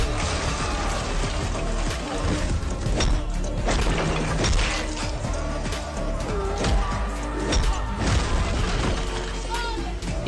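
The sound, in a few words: bottle smashed over a thug in a fight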